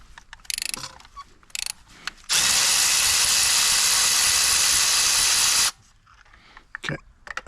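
A loud, steady mechanical whirring lasts about three seconds between softer scattered clicks and clanks while a spark plug is loosened on an Audi TT MK2 engine, close up with no talking.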